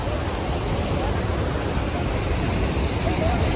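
Spray from a huge waterfall in Paraguay falls like rain, a loud steady broadband hiss and rush of water droplets filling the air without pause.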